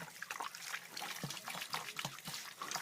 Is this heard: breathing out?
no